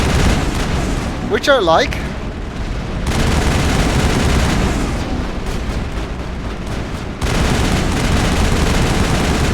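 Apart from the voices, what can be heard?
turrets firing in Mass Effect video game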